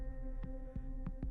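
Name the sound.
heartbeat sound effect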